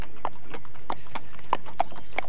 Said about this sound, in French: il y a un cheval qui va bientôt être à l'écran